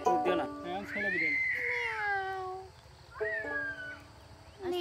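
A person vocally imitates a male cat, giving drawn-out meows and yowls with rising and falling pitch, close and loud, in two main calls separated by a short pause.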